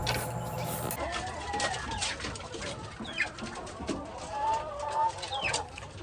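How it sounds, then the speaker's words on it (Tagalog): White Leghorn chickens on a farm cluck and chatter in a continuous, fairly close flock sound, with scattered brief calls rising above the steady murmur and no speech. "So ito na yung mga white leghorn natin mga ka-farmers"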